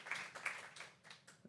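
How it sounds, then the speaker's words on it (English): Audience applause for the speakers at an arts talk session, a brief, faint patter of scattered clapping from a small room, uneven and fading, with no voices over it. "how about a round of applause for all our speakers?"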